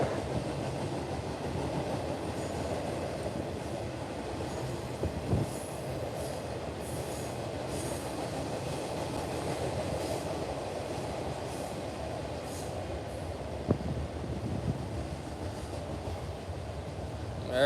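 A train rolls past at close range, a loud, steady rumble of rail cars with wheel squeal and clatter that holds through the whole stretch, heard near flooded boat docks with no talk over it.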